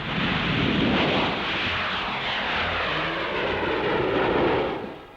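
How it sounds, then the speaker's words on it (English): The new Handley Page Hermes aircraft flies past in a steady, loud engine roar that holds evenly, then begins to fade at the very end. "The new Handley Page Hermes."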